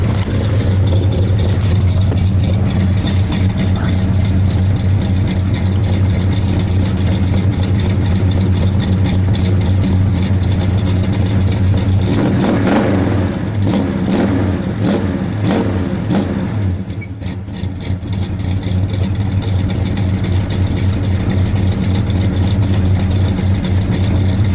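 A 1970 Oldsmobile Cutlass V8 idles loud and close after a cold start, its steady rumble broken by a run of sharp throttle blips and revs midway before settling back to idle.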